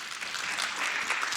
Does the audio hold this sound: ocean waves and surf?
no